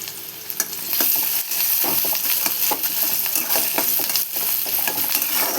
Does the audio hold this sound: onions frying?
yes